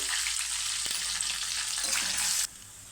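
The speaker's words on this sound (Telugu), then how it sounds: "తాలింపు అయితే వేగిందండి" Curry leaves, asafoetida and other tempering spices sizzle steadily in hot oil for a Telugu cucumber-tamarind pickle, a close, continuous frying hiss that cuts off abruptly near the end.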